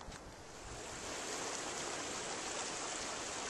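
Ocean surf breaking on a Pembrokeshire beach along the coast path, a steady broad wash of waves with some wind rush, continuous and fairly loud with no voices.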